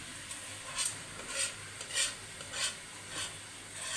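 Dried molokhia being stirred into cooked onions in a pot, producing soft rhythmic swishing and scraping strokes roughly every half second over a faint sizzle, quiet and close, with no voices.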